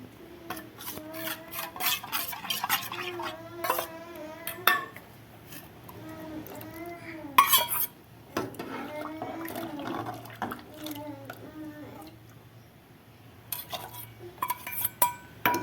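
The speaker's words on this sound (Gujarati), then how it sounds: "આવી રીતે હલાવી નાખશું આપણે" Gujarati dal with turmeric and spices being stirred in a metal pot, clinks and liquid sloshing mixed with scraping, under someone talking, then a quieter pause and more clattering.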